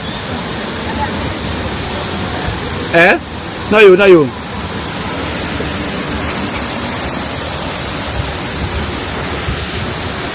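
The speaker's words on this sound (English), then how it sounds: "you can hear the river now" River water flows as a steady broadband rush that runs through the whole stretch, with a brief burst of nearby talk partway in.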